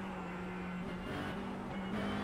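A race car engine in the Assetto Corsa Competizione racing game holds a steady, faint drone with slight shifts in pitch, heard alone over a short stretch.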